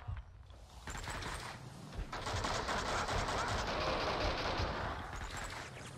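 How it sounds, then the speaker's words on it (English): Dense, continuous gunfire with shotguns booming amid the barrage in Max Payne 2, sustained and loud across the whole stretch with repeated sharp blasts. "Oh god, they got shotguns."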